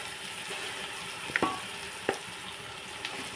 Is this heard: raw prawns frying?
yes